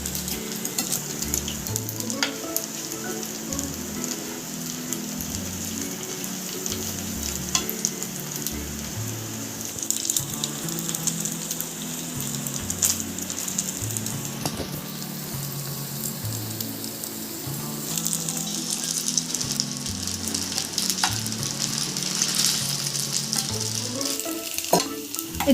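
Maggi noodle manchurian pieces deep-frying in hot oil: a dense, continuous crackling sizzle up close, with occasional taps and bubbling bursts as pieces are turned, no talk.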